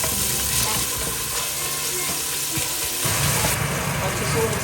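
Garlic, onion and ginger sautéing in hot oil for a sinigang, a steady close sizzle with light stirring that swells louder partway through.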